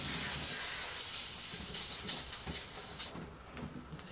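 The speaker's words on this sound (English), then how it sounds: "I'm going to spray that with brake clean real quick." Aerosol brake cleaner sprayed onto a 4L65E transmission piston from a 2003 Cadillac Escalade, a steady close hiss that continues for about three seconds before tapering off.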